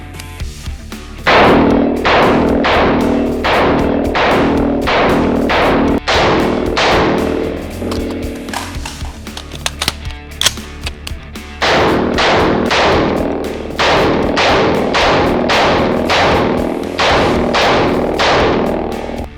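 A California-compliant AR-15 rifle fires in fast bursts, a long run of sharp, loud, closely spaced shots with a brief lull in the middle before the rapid firing resumes.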